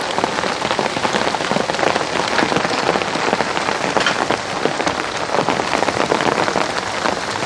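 Rain falls steadily on a garden, a dense, even patter of drops on leaves and ground that continues without a break and without voices.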